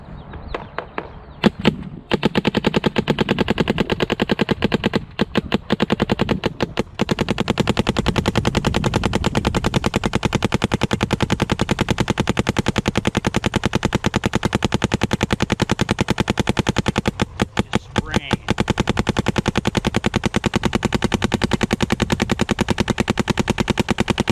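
A Planet Eclipse CS2 paintball marker fires rapidly with APX Precision paint, a loud, dense stream of shots with only brief breaks, close and nearly continuous throughout, with no voices.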